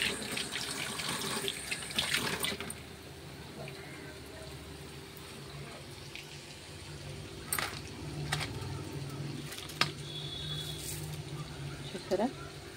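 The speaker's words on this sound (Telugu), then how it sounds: "హ్యాండ్ వాష్ చేసేసుకుంటున్నాను అన్నమాట" Hands washed under a running tap at a kitchen sink, a steady close stream of water with occasional splashes and a few light clinks, while a person talks over it.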